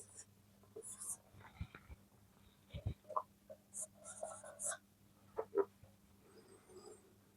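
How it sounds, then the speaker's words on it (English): Marker or chalk drawing a circuit on a classroom board: scattered short scratches and taps in uneven bursts, faint and close, with soft breathy voice sounds in between. "I am going to draw the circuit on the board."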